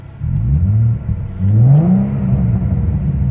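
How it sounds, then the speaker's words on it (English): A 2014 Ford Mustang V6 with a manual gearbox revs up from idle, the engine note climbing twice in quick swells and then settling into a steady, loud, close rumble. "I'll rev it up. Let's see if we can have a listen."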